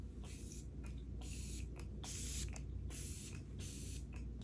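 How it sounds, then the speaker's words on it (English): A face mist spray bottle from a Sephora haul puffs out four or five quick, airy hisses in a regular rhythm, close and fairly quiet, with no talking. "I'm just gonna spray my face already."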